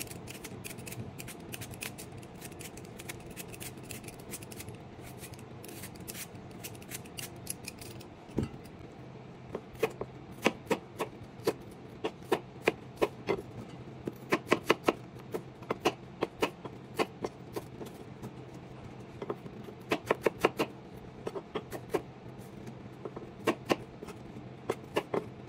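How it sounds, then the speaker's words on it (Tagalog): A knife cutting an apple into small pieces, with quiet, irregular sharp taps and clicks that grow busier in the second half, faint and close, with no talk. "tapos ko nang hiwain yung ating apple"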